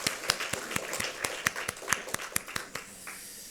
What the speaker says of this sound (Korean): 우리 하나님 앞에 감사와 영광의 박수 올려드리겠습니다